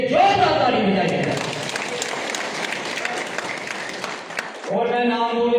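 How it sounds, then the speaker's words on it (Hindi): Loud, sustained applause from a crowd at a Rashtriya Kisan Union farmers' conference in Madhin, clapping for the farmers for several seconds, with someone speaking just before and after it. "सभी किसान भाइयों के लिए जोरदार ताली बजाइए।"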